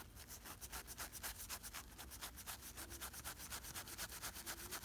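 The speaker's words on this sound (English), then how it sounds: "Anyway, we're just going to polish it." A Mercedes W113 cold start slide valve being polished by hand, a quiet, rapid, regular rubbing swish repeating steadily throughout with no talk.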